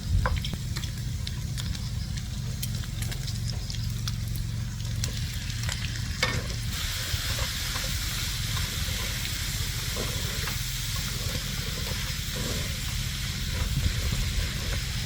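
Pork belly frying in its rendered fat in a pan with Thai chili paste, a dense continuous sizzle and hiss with intermittent scraping stir strokes, close and loud throughout, no talking.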